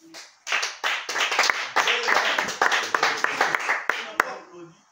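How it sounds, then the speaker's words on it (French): Clapping from a small audience at a French-speaking gathering, a burst of uneven hand claps that starts abruptly after a pause and continues fairly close with irregular peaks, a voice briefly heard among them. "Est-ce qu'on peut l'applaudir?"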